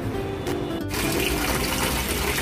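Water falls steadily from a seashell into the basin of a homemade decorative fountain, a continuous close splashing trickle that runs alone without a break.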